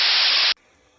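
A second processed hi-hat sample modelled on the LM-1 drum machine gives one harsh half-second hiss that stops sharply, leaving a faint low noise floor after it.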